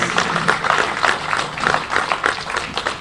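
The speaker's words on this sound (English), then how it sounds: "Can we give him another round of applause?" An audience at a formal event in Nigeria claps together in steady, dense applause that stays even throughout.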